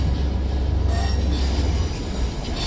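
A freight train running from Felixstowe North to Trafford Park passes through Stockport station on the West Coast Main Line, a loud, steady close-up rumble with wheel squeal and no talk.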